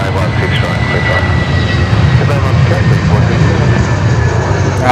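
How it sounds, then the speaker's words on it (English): A jet airliner rolling down runway 16 right for takeoff at Sydney Airport, a loud, continuous engine roar with a whine on top, heard close by under someone talking. "the Jaffa Jet on the roll here on runway 16 right"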